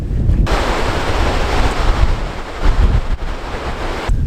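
Strong wind roars into the microphone in a loud, continuous rumble at waterfalls during a lake-effect winter snowstorm near Buffalo, with no voices heard.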